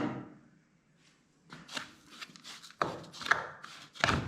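Spices and salt being mixed by hand for a chicken drumstick marinade, heard as a run of close, uneven rubbing and scraping strokes after a brief quiet start, with no talk.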